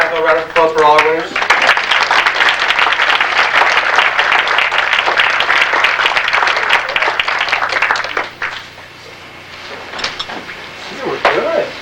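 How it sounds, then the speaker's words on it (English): A gala audience at a children's film and media event breaks into loud, dense applause for award winners, following a brief spoken line; the clapping holds strong for several seconds, then drops off abruptly as talk resumes. "have a round of applause for all our winners"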